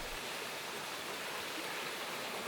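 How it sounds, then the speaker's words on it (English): Freshwater springs bubble out of rocks in a gully high on the Kimberley Plateau, a steady soft hiss of running water with no break and no voices. "we find freshwater springs bubbling out of the rocks"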